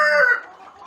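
A short, close call from a KUB village chicken, a clucking crow that rises and trails off, heard alone.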